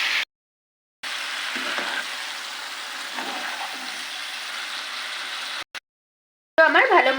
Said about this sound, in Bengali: এখন আমি ভেজে রাখা গোটা গোটা আলুগুলো দিয়ে দিলাম আর 5 মিনিট নেড়ে চেড়ে